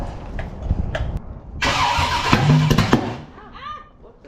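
A 454 V8 engine in a 1972 Camaro cranks over and catches with a loud, rough roar as the throttle is pumped, then quickly dies back down.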